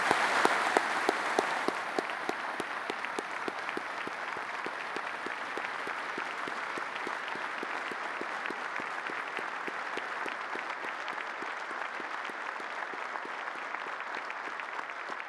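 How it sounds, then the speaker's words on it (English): A large audience at a conference opening session gives a long, steady round of applause, a dense even patter of many hands that stays consistent throughout and sounds somewhat distant. "let's give him a big round of applause that he will appreciate"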